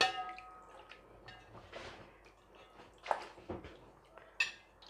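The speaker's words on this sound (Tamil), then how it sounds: "கறியை லேசாக அலசி எடுத்தாச்சு." Raw mutton being lightly rinsed by hand in a bowl of water, with soft sloshing, scattered drips and a few sharper splashes and clinks against the container, fairly quiet and close.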